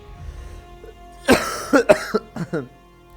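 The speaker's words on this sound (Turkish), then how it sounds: "Öksürmekten helak oldum ya" A person coughs in a burst of harsh, rasping coughs and throat clearing, several close, loud hacks in quick succession after a quiet start.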